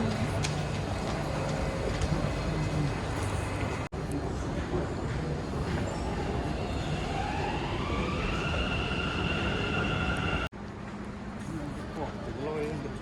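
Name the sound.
underground metro train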